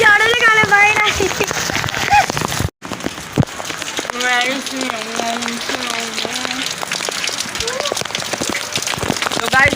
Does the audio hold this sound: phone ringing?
no